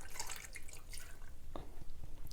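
Chicken broth poured from a cup into an Instant Pot, a continuous close splashing trickle with small drips throughout, steady and moderately loud, no voices.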